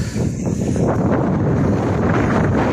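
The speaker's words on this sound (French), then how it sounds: "Et il y a du vent, je l'ai de face" Strong wind buffets the microphone on the seafront at the marina in Elche, a loud, continuous rumbling roar with no talking.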